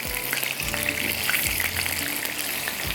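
Chicken methi kababs fry in a pan with a steady, loud sizzle, and occasional soft scrapes come through as they are pressed down.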